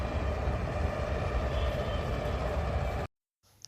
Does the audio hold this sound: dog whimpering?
no